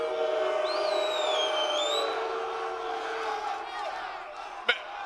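A large crowd jeers a fighter at a UFC pre-fight press conference, a sustained roar of voices that stays loud throughout, with whistles and hoots rising above it and a sharp bang near the end.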